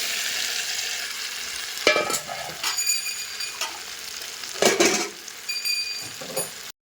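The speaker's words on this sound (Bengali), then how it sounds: "এবার মশলাটাকে কষাবো।" Spices for a jackfruit and prawn curry, cooked without onion or garlic, are sautéed in a pan, a steady sizzle broken by repeated scraping stirs and metallic clinks of a spoon on the pan, close and fairly loud, with no talk.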